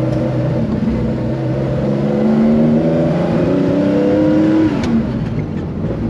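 A 1974 Porsche 911 RSR tribute engine revs loudly from inside the car while driving, rising in pitch through the gears with a steady gruff drone.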